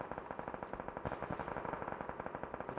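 Rapid automatic gunfire in a shooter video game, a dense continuous burst of sharp repeated shots at an even fast rhythm, loud and close with no talk over it.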